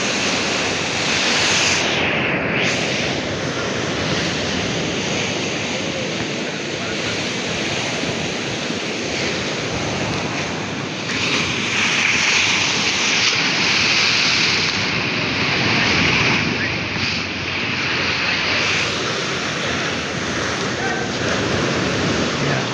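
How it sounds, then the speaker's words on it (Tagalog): Strong ocean waves crash and churn along a beach shore, a loud, continuous roar of surf with surges and wind buffeting the microphone throughout. "Lakas ng alon."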